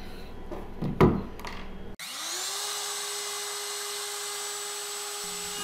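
A router fitted with a carbide dovetail bit spins up with a rising whine, then runs at a steady high-pitched scream, preceded by a few clunks and knocks of handling the tool and wood.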